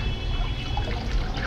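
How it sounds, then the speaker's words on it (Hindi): Water, made acidic with lemon juice, being poured into the soil of a potted lemon plant, giving a continuous trickling, splashing flow with no talking. "अब मैं ये पानी, ये जो मेरा नींबू का प्लांट है उसके अंदर मैं इस्तेमाल करूंगा।"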